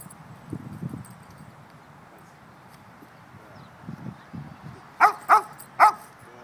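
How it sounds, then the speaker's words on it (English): A Belgian Malinois in protection training gives three loud, sharp barks near the end, preceded by quieter shuffling and low background sounds. "Put him back on and ask him to bark."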